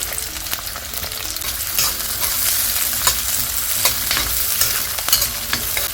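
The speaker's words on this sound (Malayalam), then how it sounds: "ചൂടായ വെളിച്ചെണ്ണയ്ക്കകത്തേക്ക് വെളുത്തുള്ളി ഇട്ട് കൊടുക്കാം പിന്നെ നമുക്ക് പച്ചമുളക് ഇട്ട് കൊടുക്കാം" Garlic, green chili and onion fry in hot coconut oil, giving a steady close sizzle with scattered crackles and the occasional scrape of a stirring spoon, and no one speaks.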